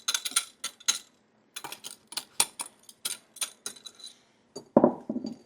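Homemade face cream mixture being scraped from the sides of a container, heard as an irregular run of close, sharp clinks and taps of a utensil against the container, with short silent gaps between.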